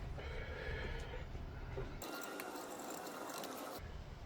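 A ratchet torquing down a cylinder head stud on a VW engine, a fast continuous clicking of the pawl close up, steady and fairly quiet, with no talking.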